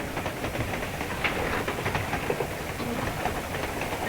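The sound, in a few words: train riding along the rails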